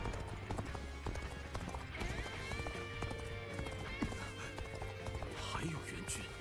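Hooves clip-clop steadily from a galloping horse in the video game Dynasty Warriors Origins, with an occasional whinny, sitting under game music and background voices throughout.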